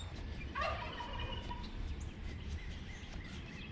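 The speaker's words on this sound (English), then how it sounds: "It's a damn turkey." A wild turkey gobbles once near water outdoors, a rapid warbling call at moderate distance over a steady background hiss, followed by faint bird chirps.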